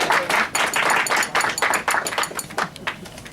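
Steady applause from a room of people at an awards banquet, claps tapping in an uneven, continuous patter at moderate volume.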